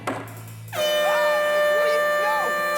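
A loud air horn starts abruptly and blares continuously close by, while people talk and exclaim over it.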